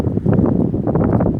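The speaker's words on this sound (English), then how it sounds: "it's very windy out here" Strong wind blows outdoors, buffeting the microphone in loud, uneven low gusts that rise and fall over a brief stretch, with no voices.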